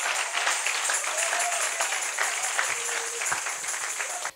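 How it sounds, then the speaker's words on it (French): A church congregation applauds and cheers for a guest speaker in a steady, dense wash of clapping that holds throughout and cuts off at the end. "Acclamez très fort."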